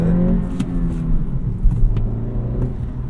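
An Acura Integra accelerates on the road, its engine a steady, loud droning hum that rises gently, heard from inside the car, with a few light bumps and rattles.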